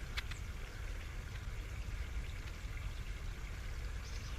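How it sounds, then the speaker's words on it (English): Water running inside an underground French drain pipe, a steady low rushing wash that stays constant and fairly loud throughout, with a faint brief tap near the start. "See if you can just hear that water running inside there."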